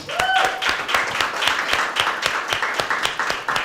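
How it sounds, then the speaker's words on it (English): An audience applauds, with clapping from a group that dwindles into scattered, uneven claps. "Let's give her a round of applause."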